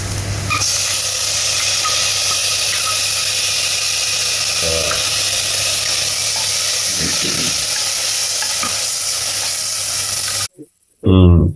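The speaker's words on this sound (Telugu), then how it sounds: "మనం ఇప్పుడు టమాటో వేసేద్దాం నెక్స్ట్" Tomatoes hit a hot pan of weight-loss pulao with the onions, giving a loud, steady broadband sizzle that runs close and continuous for about ten seconds before cutting off, followed by a brief voice.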